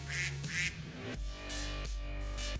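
Duck quacking in the video game Minecraft: a few short nasal quacks, near and clear, over low droning background tones.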